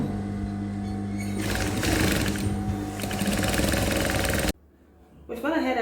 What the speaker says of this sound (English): go ahead and sew the hem down